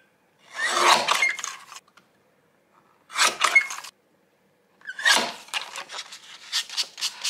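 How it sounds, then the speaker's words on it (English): A sanding block's edge rubs the borders of a photo for a scrapbook layout in three close, dry rasping bursts, with short pauses in between. "Using our new sanding block, I'm going to use the edge bit, I think, just to roughen up the edges of my photo."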